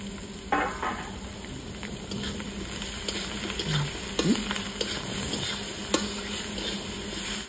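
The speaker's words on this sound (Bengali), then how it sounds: "আলুটা একটু ভাজা ভাজা করে নেব।" Potatoes frying in a pan sizzle with a continuous close hiss while being stirred, with scraping and light pan clatter throughout.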